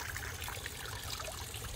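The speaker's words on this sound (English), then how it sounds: "and the waterfall" Steady splashing rush of a small waterfall in a Japanese garden, close and continuous, a gentle bubbling trickle with no other sounds.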